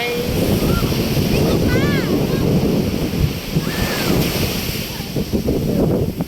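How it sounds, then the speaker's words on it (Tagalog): Sea waves roll steadily onto the beach at Canyon Cove Resort, a continuous loud wash of surf mixed with wind buffeting the microphone, and faint voices of children and adults drift in over it. "Dito kami sa tabing dagat."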